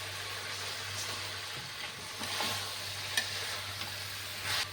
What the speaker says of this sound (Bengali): হালকা হাতে এটা একটু মশলার সাথে নেড়ে নিচ্ছি